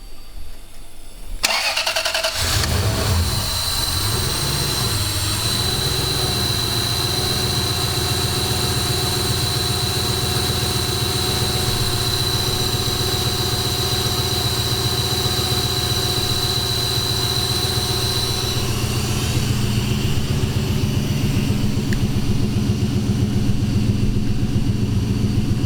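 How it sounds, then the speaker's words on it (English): A 1UZ V8 in a Toyota pickup, running on a Spitronics ECU and harness, cranks briefly, catches and settles into a loud, steady idle, heard up close with no talk. "see if it'll actually kind of idle"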